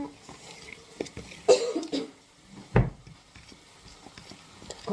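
Coughing from stinging onion fumes while cooking at home, two or three sharp close coughs and throat clearing amid quiet kitchen stirring and shuffling.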